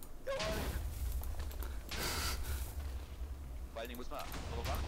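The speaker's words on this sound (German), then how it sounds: "Gezielte Sprengung." Cannons fire and explode in a German tower-conquering video game, with several loud booms and blasts, one near the start, one around the two-second mark and a cluster near the end, over a dense, steady game soundscape.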